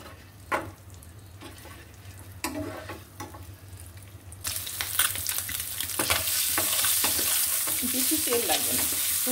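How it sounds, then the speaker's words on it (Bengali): An egg frying in a frying pan in the small amount of oil left over from cooking a vegetable dish, with stirring and scraping early on, then a steady loud sizzle building from midway and holding to the end. "ওই ভাজার তেলেই, যেটা আমি ভাজি করেছি ওই তেলেই ডিমটা ভাজি হয়ে যায়।"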